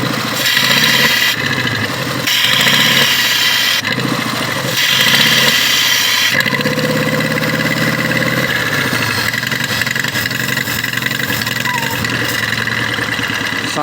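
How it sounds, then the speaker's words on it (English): A vehicle engine with a faulty EGR system revs up and settles, its exhaust pushing out harder as RPMs climb; steady loud running throughout with a rougher low rumble in the middle, and a voice talking over it. "RPMs kicking up. You can hear the exhaust pushing out more."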